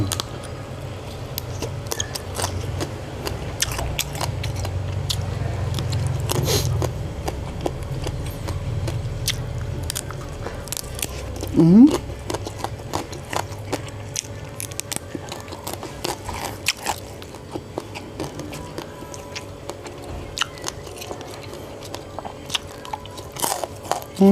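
Crunchy biting and chewing of fresh raw vegetables eaten with jaew bong chili paste, with close, repeated crisp crunches and soft chewing noises continuing throughout and no talk.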